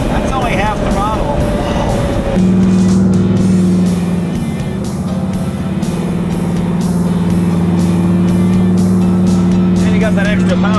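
A twin-turbo 1000HP Oldsmobile Toronado pulls hard on part throttle. Its loud, close engine note drops with a gear change and then climbs steadily, with voices talking over the roar.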